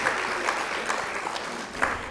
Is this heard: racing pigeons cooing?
no